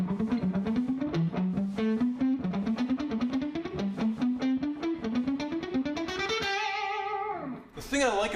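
Distorted electric guitar playing a fast picked run from an overture, a rapid stream of evenly spaced notes climbing and falling in steps, shifting between single and double speed before ending on sustained higher notes, loud and alone.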